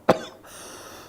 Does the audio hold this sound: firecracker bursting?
no